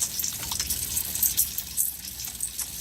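Tap water runs steadily over hands being rinsed at a sink. The hiss and splash are continuous and moderately loud, with soft fluctuations as the hands move under the stream.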